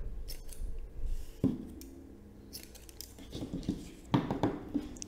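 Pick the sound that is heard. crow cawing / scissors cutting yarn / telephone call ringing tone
scissors cutting yarn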